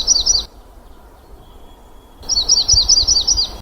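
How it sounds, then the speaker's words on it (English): A yellow-rumped warbler sings two short bursts of high, rapid chirping trills, split by a brief quiet gap and heard clearly with no talk. "that's what yellow rump warblers normally sound like"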